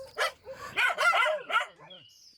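Several dogs at a house in a Kerala forest settlement bark and yip eagerly in greeting, a quick burst of close, loud barks with whiny, rising yelps that trails into a brief high whine.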